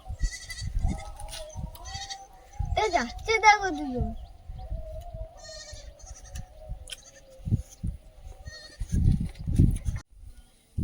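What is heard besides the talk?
goats bleating after returning home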